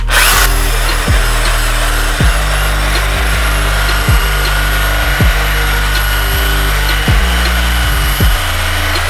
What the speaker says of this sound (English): we'll use our flannel buff, 1400 RPMs, with just a little bit of Blue Moon compound